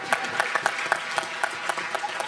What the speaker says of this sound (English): Let's give that question a round of applause.